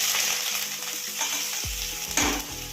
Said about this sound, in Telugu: పులుసుకి తిరగమాత పెట్టుకుంటున్నామండి